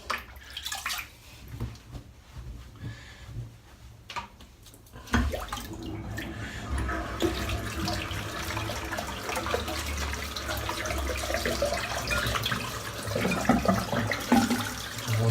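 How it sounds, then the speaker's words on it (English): Running tap water pours steadily while a shaving brush is rinsed out beneath it, the splashing growing fuller and louder after a quieter start, heard close up with no speech. "Doing now is just rinsing the brush out while the witch hazel dries in"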